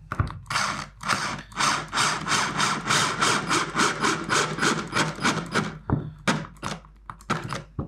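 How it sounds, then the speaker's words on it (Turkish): A power drill drives screws into wood, with a run of rapid, loud rhythmic grinding bursts that ends in a few short separate pulses at close range. "Vidalarımızı bu şekilde atabiliyoruz ahşaba."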